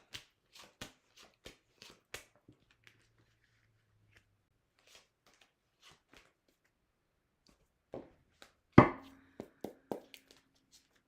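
Tarot cards being shuffled by hand, a series of sharp crisp riffles and taps spaced irregularly, quiet at first then a louder burst near the end, with no talking.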